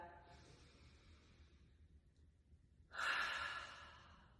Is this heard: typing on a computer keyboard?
no